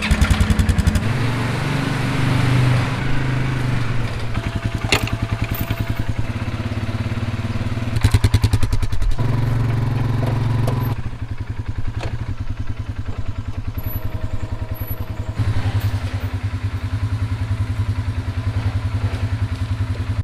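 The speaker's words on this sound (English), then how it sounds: "Let's get you a cold startup on this four-wheeler." A four-wheeler ATV engine turning over from cold and settling into a steady, loud idle close by, with a burst of revving partway through and clattery mechanical noise over the running engine.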